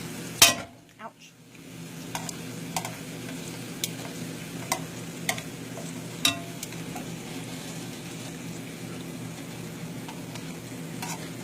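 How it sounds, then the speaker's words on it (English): Tortilla chips frying a few at a time in a pot of oil, a continuous hiss of bubbling oil punctuated by sharp clinks of a utensil against the pot, one loud knock near the start. "That way it gives the chips a chance to float around in the oil and get toasty."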